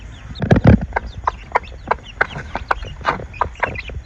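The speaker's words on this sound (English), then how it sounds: "let these chickens scratch through it" Chickens in a pen, including a broody hen, cluck in quick, uneven bursts, close by, with a few louder clucks near the start.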